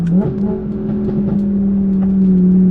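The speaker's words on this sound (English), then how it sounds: "The problem is the exhaust noise is so loud." Loud Audi R8 exhaust rumbling close by, a deep steady drone with a brief rev at the start, holding strong throughout.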